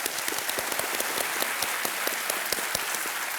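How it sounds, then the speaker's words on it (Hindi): Steady applause from a television quiz show studio audience in India, many hands clapping together in a dense, even wash without pauses, moderately loud and continuing for the whole stretch. "तालियों के साथ एक बार फिर इनका स्वागत।"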